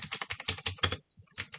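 Computer keyboard typing while a static route is configured on a MikroTik router: quick close clicking keystrokes in a steady run, a short pause, then more keys, quiet and with no voices.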